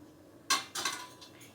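A hot baking bowl for a sugar-free dry fruit dark chocolate cake is set down in a kitchen, giving a few sharp metallic clanks and clinks in quick succession, close by with no talk.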